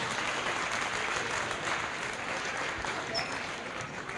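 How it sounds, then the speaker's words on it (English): An audience at an alumni tournament fundraiser event applauds recipient families, with sustained, even clapping from a sizable crowd throughout, loud and continuous. "One more round of applause for our recipient families."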